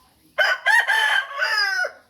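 A fighting cock crows once, loud and close, in a single drawn-out multi-part call lasting under two seconds against a quiet background.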